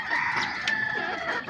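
Deshi (native) chickens clucking and calling in a cage, several birds close by with overlapping cackles and a brief sharp squawk, no talking.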